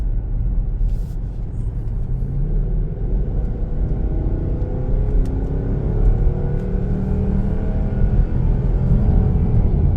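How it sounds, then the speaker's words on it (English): A 2006 Mercedes-Benz ML500 W164 with its V8 accelerating hard, a deep grumbling roar climbing steadily in pitch through several gears over ten seconds, heard from inside with no talking. "the sound of a Mercedes-Benz, especially a V8, is really hard to beat"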